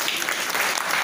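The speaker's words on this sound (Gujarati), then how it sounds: "એકવાર તમારા માટે તાળીઓ પાડીએ" Dense applause from an audience at a gathering, a loud continuous wash of clapping with no pauses.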